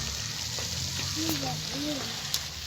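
Ground coriander, cumin, chilli powder and yogurt fry in a pan for egg korma, a soft continuous sizzle under faint background sounds, while a voice hums briefly.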